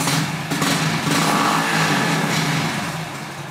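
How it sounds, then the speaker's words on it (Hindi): A motorcycle started without a key idles steadily close by, a loud continuous engine drone that eases off slightly near the end. "हमारी बाइक है वो स्टार्ट हो गई है"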